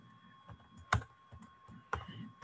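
A computer keyboard clicks as a cancellation message for a Fiverr order is typed, with soft keystrokes and two sharper taps at close range over a faint steady tone, no voices.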